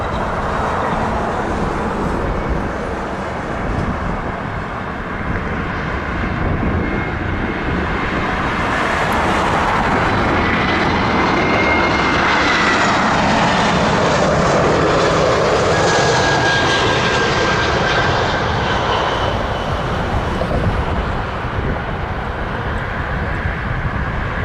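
An Airbus A321 from San Francisco at Toronto Pearson gives a loud, sustained engine roar that swells and shifts in pitch over about twenty-five seconds, with faint traffic hum beneath.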